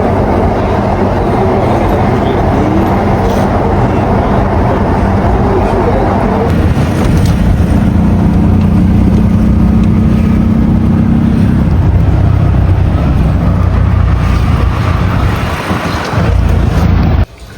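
Inside an underground metro train in Pune, a loud continuous rumble and roar of the carriage in motion fills the whole stretch, shifting in tone partway through, with faint voices now and then.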